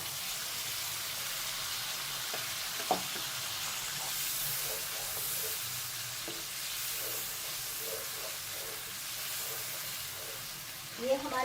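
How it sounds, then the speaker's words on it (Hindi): Fried koftas (meatballs) being sautéed in a spice masala with yogurt, giving a steady sizzle and frying hiss with occasional stirring knocks throughout, moderately loud and up close. "अच्छी तरीके से हमारे मसाले के साथ भून देते हैं कोफ्ते"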